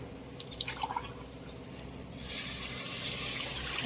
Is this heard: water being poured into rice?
yes